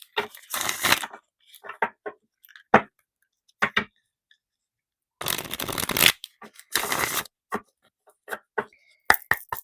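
A deck of cards being shuffled nearby in several separate riffle bursts, with scattered soft taps and card flicks between them, no talking.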